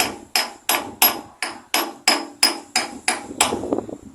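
Eleven sharp metallic hammer strikes drive an axle seal into a Fordson Dexta tractor at a steady pace, loud and close, each ringing briefly before the next; the final blows sound duller as it bottoms out.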